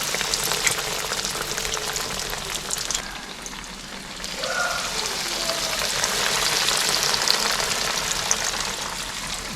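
Chicken pieces fry in oil heated to 350°F over a gas flame, a steady crackling sizzle with fine popping that swells and settles slightly, close by and with no talking.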